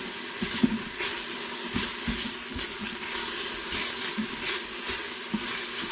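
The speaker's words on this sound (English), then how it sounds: "I'm just going to give that a quick saute for about maybe a minute, minute and a half" Beef and scallions sauté in an Instant Pot with a continuous moderate sizzle and hiss, broken by occasional soft stirring knocks.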